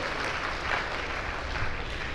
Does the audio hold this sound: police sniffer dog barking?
no